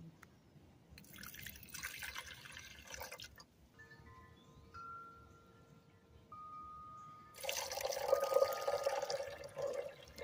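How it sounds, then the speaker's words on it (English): About 200 ml of vinegar and 50 ml of hydrogen peroxide pour into a beaker in two separate splashing bursts, close and clear, with a quiet pause between them and no talking. "add some fresh vinegar and hydrogen peroxide"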